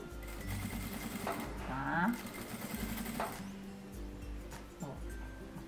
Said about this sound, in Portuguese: Vou parando a costura, ajeito e sigo.